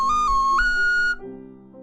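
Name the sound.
small six-hole ocarina blown as a whistle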